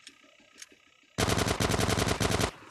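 Automatic gunfire in GTA San Andreas: after a quiet stretch with a faint click, a loud sustained burst of rapid shots rattles steadily for over a second, close and dense.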